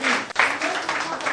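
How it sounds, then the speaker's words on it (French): A short burst of clapping from an audience of children and adults at a parliament-style event, fairly close and dense, with voices mixed in over it. "Allez, on peut l'encourager en applaudissant"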